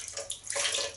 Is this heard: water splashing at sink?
yes